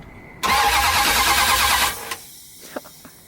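A 1978 Dodge Power Wagon engine cranks loudly and steadily for about a second and a half, then cuts off, leaving a few faint clicks and knocks.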